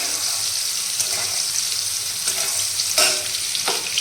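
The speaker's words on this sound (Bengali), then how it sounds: "উচ্ছে কুমড়ো ভাজা কমপ্লিট" Bitter gourd and pumpkin fry in a large wok with a continuous bright sizzle, broken by a few clinks and scrapes of stirring.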